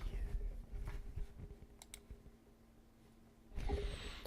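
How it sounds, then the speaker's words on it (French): Soft computer keyboard typing with scattered clicks, close and quiet, runs through the first half, then eases off before a burst of handling noise near the end. Nobody speaks. "Juste histoire de vous détendre un peu avec les bruits de clavier,"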